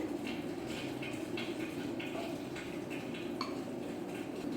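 A spoon scrapes and clinks in a bowl as cucumber is mixed into yogurt for raita, in a steady run of repeated light strokes over a constant low hum.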